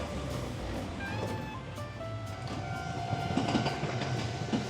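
A narrow-gauge train on the Hokusei Line in Japan rumbles along the rails with rhythmic clicking and a few squealing tones from the wheels, steady and close, with no talking.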